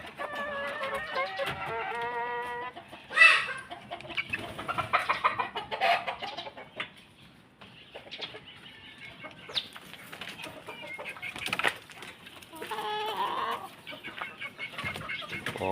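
Young three-month-old backyard chickens cluck and chirp steadily in a repeating pattern, with a brief louder squawk and a flutter of wings, the birds close by and no one talking.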